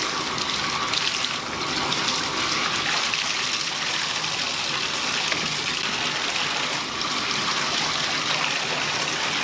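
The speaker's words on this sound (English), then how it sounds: "I'm just gonna rinse these diapers, wring them out just a little bit and throw them into the bucket" Cloth diapers are rinsed by hand under running water, then gently wrung and tossed into a bucket. A continuous close gush of water with splashing fills the whole stretch, with no talking.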